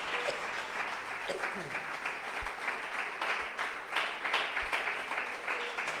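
A Sunday church congregation claps steadily in a sustained round of applause, dense and lively with a few sharper individual claps and faint voices mixed in.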